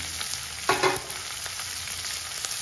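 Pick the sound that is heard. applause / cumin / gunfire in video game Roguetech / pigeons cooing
cumin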